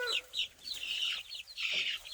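Small chickens of mixed sex, straight-run birds moving into a newly built hoop coop, cluck and chirp in short bursts from close by, several overlapping calls with brief gaps between them.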